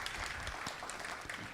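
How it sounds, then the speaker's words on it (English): Audience applause at a health and healing congress award presentation, a continuous wash of clapping hands at steady strength, with no break. "Let's give them another round of big applause"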